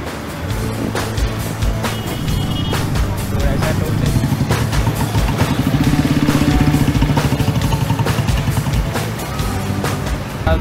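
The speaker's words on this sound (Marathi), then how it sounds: "आपण पोहोचलो आता हायवेला आणि इथं ट्रॅफिक खूप आहे।" Heavy highway traffic near the Dhule toll plaza, engines of passing cars and motorcycles droning and rising close by in a dense continuous rumble, with someone talking over it.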